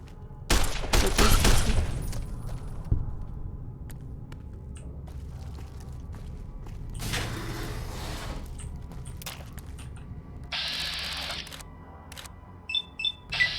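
Gunshots in Fallout: New Vegas, a loud burst of rapid shots at the start followed by a sharp crack, then a scattered quieter shot and clicking mechanical sounds amid faint ambience.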